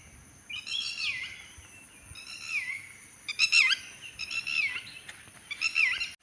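Birds in a Konkan cashew orchard during the rains: several bright chirping calls arrive in short bursts, fairly close and clear over a quiet background, with no talking.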